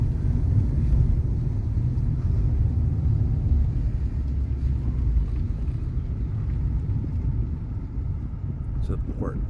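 A car drives slowly along the coast of São Mateus village on Pico Island in the Azores, giving a steady, loud low rumble of engine and road noise with wind buffeting throughout.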